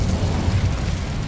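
The Incendio fire spell in the Hogwarts Legacy game bursts into a dense, roaring whoosh of flame, a loud low rumble that swells and fades over a second or so, with no talk.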